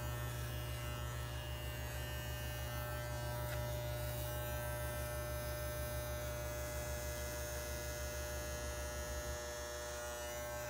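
Electric clippers buzz continuously as they shave hair from a head, a close, steady hum that holds for the whole stretch with no talking.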